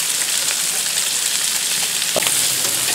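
Bacon and cabbage frying on a Blackstone griddle, a loud, steady close-up sizzle with a few small scrapes near the end and no talking.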